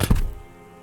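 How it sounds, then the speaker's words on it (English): A rifle dropped carelessly into sand in the video game Disco Elysium, a single dull thunk that quickly fades, close and alone. "The old man lays the rifle down carelessly"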